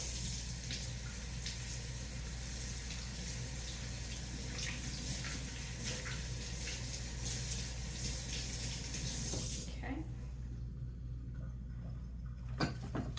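Fresh produce is rinsed under a running kitchen tap, a steady close stream of water splashing in the sink that cuts off near the end, leaving quiet room sound and a couple of small knocks.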